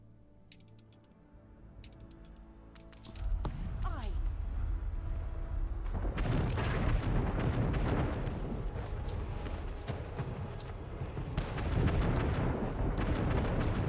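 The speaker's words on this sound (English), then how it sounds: "Firing the cannons." Cannon fire from naval ships in the city-building game Anno 1800, with heavy booming blasts that blend into a dense, continuous rumble of battle noise. It builds from quieter ambience into sustained loud explosions.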